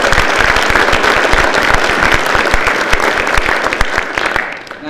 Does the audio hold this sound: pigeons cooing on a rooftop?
no